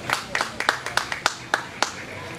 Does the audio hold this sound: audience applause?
yes